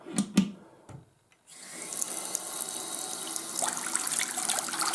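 After a few knocks and a brief near-silence, water begins rushing steadily through drainage pipework in an old French house, a continuous hissing flow that builds slightly and holds to the end.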